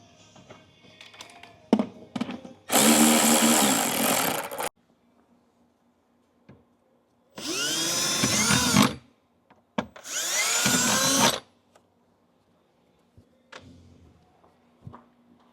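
Three loud bursts of a power drill whirring through metal while drilling rivet holes for a wing on a C8 Corvette Z06, each lasting a second or two, separated by pauses with light clunks and handling noises.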